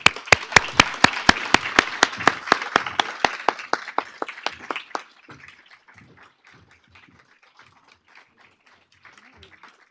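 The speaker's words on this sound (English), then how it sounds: "Can we have a round of applause for all of them?" An audience gives a round of applause for students on stage at a summer research institute capstone, starting with sharp, rhythmic clapping that thins out after about five seconds into scattered, fading claps.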